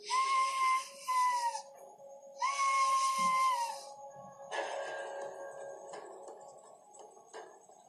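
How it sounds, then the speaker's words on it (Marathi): Two long, shrill whistles sound one after another with a short gap between them, followed by fainter, rougher whistling tones. "होय, हा आपल्यासाठी इशारा आहे युवराज"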